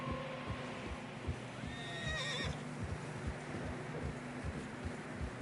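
Horses trudge along a narrow, snowy trail in Red Dead Redemption 2 on PS5: steady rhythmic clip-clop of hooves throughout, with one loud, close whinny rising and falling midway over a light wind hiss.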